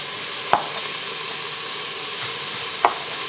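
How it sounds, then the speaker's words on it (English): Beef short ribs searing in a pan give a steady, close sizzle, broken by two sharp knocks about two seconds apart. "While you sear that last batch of beef"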